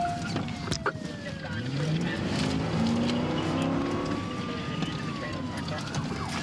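A fleeing car on a police chase, running on its bare axle after losing tires, roars loudly and continuously, its engine note rising and falling, with a siren wail and radio voices mixed in throughout.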